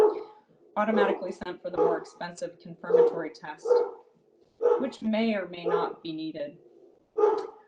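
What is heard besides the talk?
dog barking in the background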